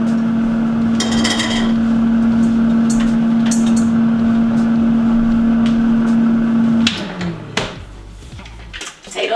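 An air fryer cooking chicken hums loudly and steadily, then cuts off with clicks and handling noises near the end.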